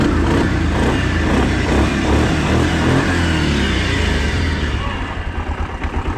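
An ATV engine runs loud and close on a test drive, rumbling with uneven revving pulses before easing off toward the end.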